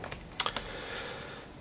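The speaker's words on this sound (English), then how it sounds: "I probably can just go ahead and hit the the cap lock key there" A custom IBM Model M keyboard with a ten-key number pad gives a few sharp key clicks, the loudest and most crowded just under half a second in, then fading to a quiet room hum.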